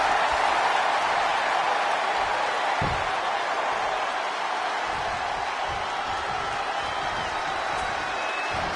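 A packed arena crowd in WWE 2K24 roars as a steady, dense wall of cheering noise, loud and continuous throughout with no talk over it.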